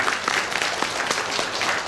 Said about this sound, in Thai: ปรบมือให้กับเจ้าสาวที่น่ารักครับ